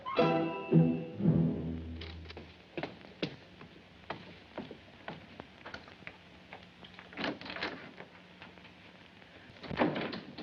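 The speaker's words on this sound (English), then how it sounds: "Close that door." An office door in a 1948 film drama thumps shut, followed by scattered light knocks, clicks and footstep-like taps in a quiet room, with no talking.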